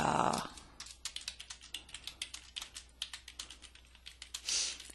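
Steady bursts of typing on a computer keyboard while writing a Word document, quick uneven clicks heard close and alone in a quiet room.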